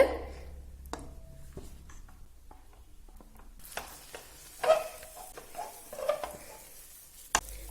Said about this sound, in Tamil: கொஞ்சம் அது கெட்டியாகி வர்ற அளவுக்கு மெதுவா கிண்டிக்கிட்டே இருக்கணும்